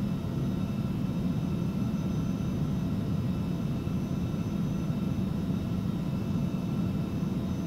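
An airliner's engines roar steadily during an accelerating takeoff roll in the X-Plane 12 simulator with a 13-knot headwind, a continuous loud rumble with a faint high whine above it.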